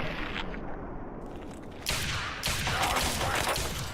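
Rapid bursts of gunfire from a weapon in the video game Fallout 3, a muffled stretch giving way to louder, dense volleys of shots near the end.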